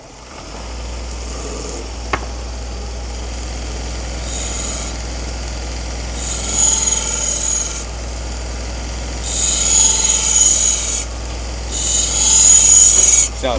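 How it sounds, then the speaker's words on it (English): A felt belt with blue compound on a belt grinder polishes and strops a Takeda nakiri, a steady motor drone with a low hum, swelling into brighter grinding hiss in three passes against the belt. "Now, polishing the new grind, but also stropping the primary edge that I just sharpened."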